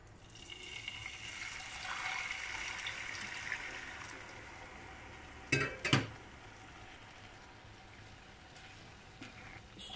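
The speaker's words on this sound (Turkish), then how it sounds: "Şimdi suyunu ekliyorum." Hot water is poured into a pan of toasted noodles for cooking, a soft, steady splashing hiss over the first few seconds that fades, followed by two sharp clanks, all fairly quiet.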